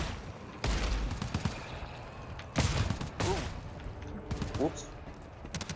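A few sharp gunshots ring out in the co-op shooter GTFO, spaced apart in separate bursts under steady player chatter.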